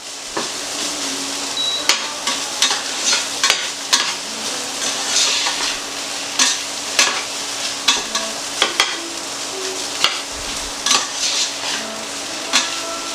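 Garlic sizzles steadily in a hot pan for a beef and noodles dish, a constant frying hiss broken by frequent sharp clinks and scrapes of a utensil stirring against the pan, with no talking.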